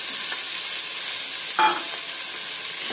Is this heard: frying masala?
yes